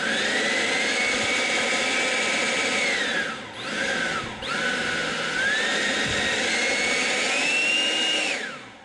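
A Kobalt 24-volt 540-cfm cordless leaf blower (KLB 2024A-03) roars on turbo with a steady, loud whine that dips briefly as the trigger eases and then climbs back up; no speech.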